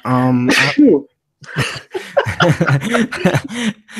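A single sharp sneeze bursts out early, followed after a brief pause by a person talking close up.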